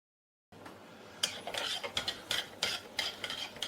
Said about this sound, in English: Let's keep stirring so it doesn't stick.